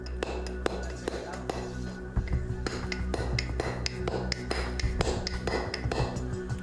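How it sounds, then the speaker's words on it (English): A bronze chisel is struck against hard stone in a string of sharp, ringing metallic taps, irregular and close, with faint voices in the background. "Next, he tries a chisel made of bronze, a material used by the ancient Egyptians"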